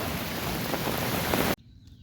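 A heavy first monsoon downpour rushes in a loud, even hiss for about a second and a half, then cuts off abruptly into near silence.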